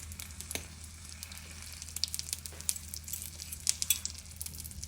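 Dough frying in a pan of hot oil with its second side cooking, giving a steady close sizzle dotted with small crackling pops and no talking.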